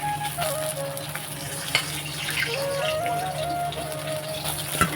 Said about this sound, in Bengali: একটু কড়া করেই ভাজছি